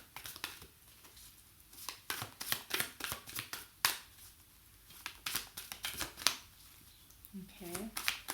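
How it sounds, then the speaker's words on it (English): Tarot cards being shuffled by hand in a series of quick riffling bursts and soft slaps, close and fairly quiet, with brief pauses between bursts. "I'm just giving the cards a good shuffle."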